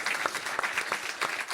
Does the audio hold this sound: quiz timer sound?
no